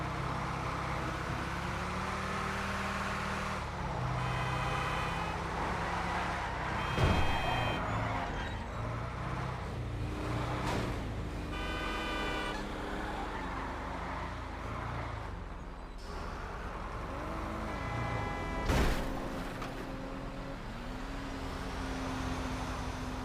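A Mobile Operations Center truck driven in GTA V, a steady low engine drone with rising and falling revs and a couple of sharp knocks, continuous throughout with no talking.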